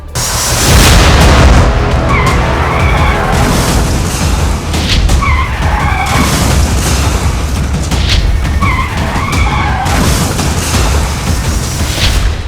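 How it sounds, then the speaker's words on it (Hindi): A car skids and smashes through a roadside barricade before running over people standing on a footpath, caught on CCTV; loud, continuous rough noise and thuds fill the whole stretch, with no talk. "कार आई और बैरिकेड तोड़ते हुए लोगों को रौंदती हुई चली गई।"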